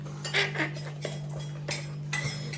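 A spoon clinks and scrapes against a container while stirring raita with pomegranate seeds: a few light, irregular taps close by over a low steady hum.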